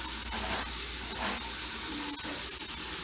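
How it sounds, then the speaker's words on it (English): Water runs from a sink tap into a basin, a steady close hiss of flowing water that continues unbroken and fairly quiet throughout, with no voices. "I'm going to fill it with water"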